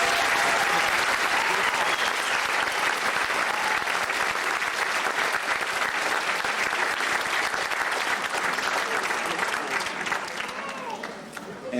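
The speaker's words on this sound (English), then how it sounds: "let's give them a round of applause" Sustained, loud applause from a school awards ceremony audience honoring award recipients, steady dense clapping throughout that tapers slightly toward the end.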